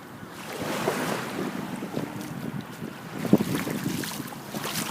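Ocean waves at the beach, a rushing surf wash mixed with buffeting wind noise on the microphone, steady and fairly close with a sharper knock near the middle, no talk.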